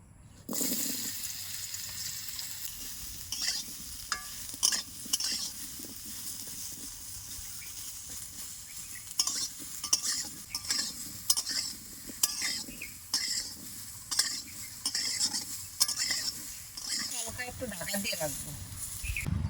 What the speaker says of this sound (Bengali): এই সাদা তেলের উপরেই দিয়ে দিচ্ছি আম